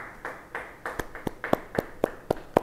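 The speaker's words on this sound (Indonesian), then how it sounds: "Yang percaya beri tepuk tangan bagi dia" A congregation at a church Bible study claps in a slow, steady rhythm, about ten distinct, evenly spaced claps ringing out in a reverberant room, growing sharper toward the end.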